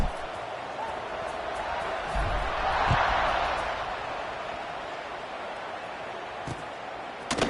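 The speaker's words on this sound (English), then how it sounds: "this crowd is buzzing after that last score" A stadium crowd in the College Football 26 video game makes a steady, dense buzzing roar that swells briefly in the middle, with a few thumps and faint commentary mixed in.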